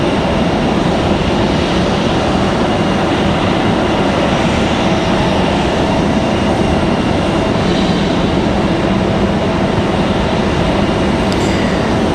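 A Southwest airliner departs from Raleigh-Durham International Airport, its engine roar a broad, steady rumble held at a distance for the whole stretch, with no voices.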